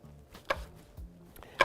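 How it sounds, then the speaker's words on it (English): A knife chops through an apple on a cutting board in a home kitchen, a few sharp separate chops with short pauses between them. "I'm gonna finish here by chopping up this last apple"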